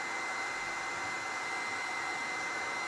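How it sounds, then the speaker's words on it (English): Heat gun blowing hot air over a lamp during a patina makeover: a steady, loud, broadband airy roar that holds constant without pause, close to the listener, with no talking. "I'm trying to go here with the heat gun"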